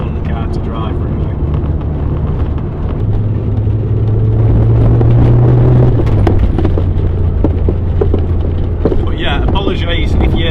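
A VW Polo Mk2F hatchback driving on a rough, bumpy back road, its engine droning steadily with rising and falling revs and road rumble throughout, while someone talks over it.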